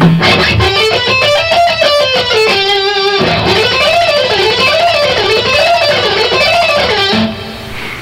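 Distorted electric guitar running quick melodic lines up and down a scale, repeating a wavy bending phrase, loud and close, then fading out.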